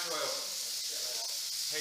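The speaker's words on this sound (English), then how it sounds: "This is shallow frying." Steady broadband sizzling hiss of fish shallow frying in a pan of oil, continuous and close, with faint crackle throughout.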